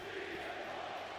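A large arena crowd roars and chants in the WWE 2K25 wrestling video game, a steady, dense wash of cheering throughout the short moment.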